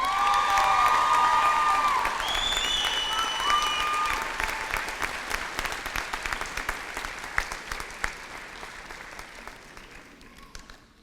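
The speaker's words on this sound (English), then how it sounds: "Let's please give one more round of applause to our two student speakers." A large crowd applauding steadily at a high school graduation ceremony, loud at first with a few whoops and whistles, then thinning out and fading over several seconds.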